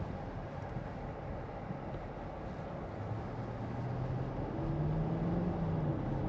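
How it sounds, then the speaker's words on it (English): Inside a 2014 Porsche Cayenne 4.2 TD S diesel with Tiptronic S and 4WD, the engine drones steadily while driving, a low continuous rumble that rises slightly in pitch and loudness near the end. "That sound of the engine's beautiful."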